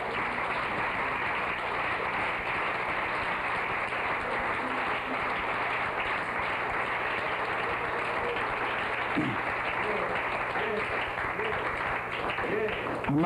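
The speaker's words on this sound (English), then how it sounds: "let's clap our hands to the Lord" A church congregation clapping their hands to the Lord during a sermon, a dense, steady stream of many hands sustained throughout, with voices and other sounds mixed in under it.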